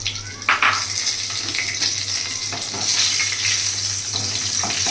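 Whole garam masala spices hit hot oil in a pan and sizzle loudly and steadily, with a few sharp crackles and pops early on and scraping stirring sounds, and no talk.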